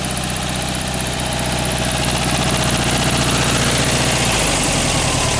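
A 1968 VW Beetle engine idles after a cold start, suspected of a bad plug or cap. It gives a loud, continuous close-up drone with a slightly uneven pulsing rhythm and no talk.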